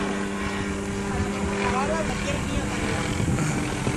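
A low droning engine rumble with a throbbing whir of a helicopter circling overhead in Las Vegas, under nearby voices talking.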